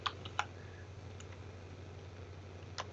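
Quiet typing on a computer keyboard, a few sparse key clicks at the start and another near the end over a low steady hum, with no voices.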